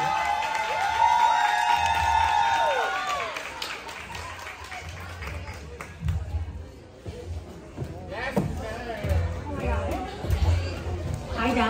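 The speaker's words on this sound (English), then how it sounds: "Clap to the mic." At a Dallas open mic night, a crowd claps and cheers loudly, with whoops and shouts over the clapping. The noise dips partway through, then swells again in bursts as chatter and voices carry across the room.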